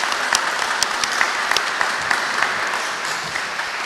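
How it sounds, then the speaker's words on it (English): Steady applause from a room full of people at a veterans' health care wheelchair basketball gathering, dense and continuous clapping with scattered sharper claps throughout. "Please give yourself a round of applause."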